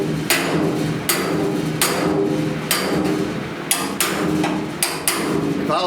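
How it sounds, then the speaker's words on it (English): A hammer strikes a body spoon held against the door of a 1969 C10 truck, seven loud, sharp metallic blows spaced roughly a second apart, each ringing briefly over a steady workshop background. "I'm gonna put the spoon on it and hit it pretty hard."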